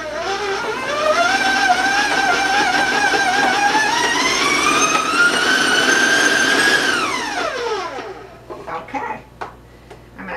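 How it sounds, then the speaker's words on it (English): Stand mixer with a paddle beating coconut cookie dough: a loud motor whine climbs in pitch as the speed is raised, holds, then winds down and stops, leaving faint clatter. "So raise your speed a little bit and you'll see it come together"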